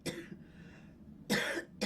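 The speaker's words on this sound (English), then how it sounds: "And then instruct her to cough." Two short, sharp coughs from one person nearby, separated by a brief pause, with a faint breath in between.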